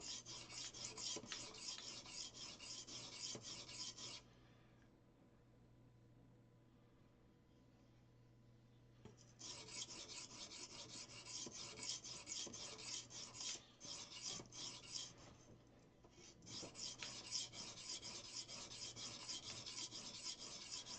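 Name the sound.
blade being sharpened on a sharpening stone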